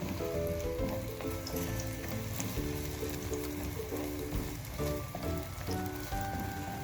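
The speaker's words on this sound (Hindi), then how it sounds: "तेल गरम हो गया है। मैंने अंडों को फेंट लिया है, इसमें कुछ नहीं मिलाया, तो ये मैं अंदर डाल रही हूँ।" Beaten eggs, plain with nothing mixed in, frying in hot oil, giving a steady dense crackling sizzle throughout with a faint tonal hum underneath.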